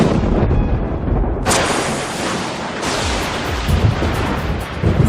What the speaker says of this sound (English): We've all seen lightning during a thunderstorm